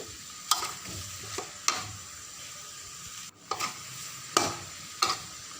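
Garlic dry-roasted without oil in a wok, a spatula scraping and tossing it in sharp, irregular strokes over a low, steady background hiss, with no voices.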